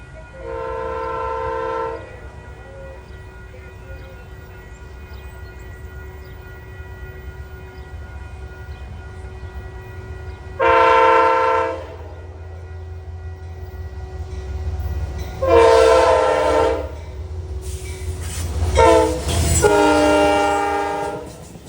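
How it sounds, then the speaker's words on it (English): Amtrak train 237, running Penn Station to Albany-Rensselaer, passes at Peekskill with a low rumble underneath and several loud chord horn blasts: one early, then a long gap before repeated blasts in quick succession near the end. "This is train 237, Amtrak."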